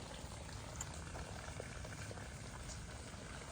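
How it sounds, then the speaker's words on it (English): Water runs steadily with a soft, bubbling hiss, faint and continuous throughout, during work on a Sleek Craft jet boat. "let me turn the water off"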